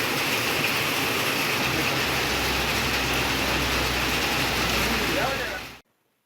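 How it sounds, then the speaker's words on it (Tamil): Heavy rain falls over Thoothukudi city amid thunder, lightning and strong wind, a loud continuous roar of downpour with a low rumbling undertone that persists evenly before cutting off abruptly near the end. "தூத்துக்குடி மாநகர பகுதிகளில் இடி, மின்னல் மற்றும் பலத்த காற்றுடன் பலத்த மழை பெய்தது."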